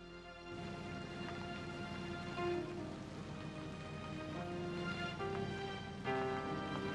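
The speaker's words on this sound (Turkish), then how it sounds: "Yağmur birden bastırdı." Sudden heavy rain pours down steadily in a dense, continuous hiss, with faint musical tones running underneath throughout.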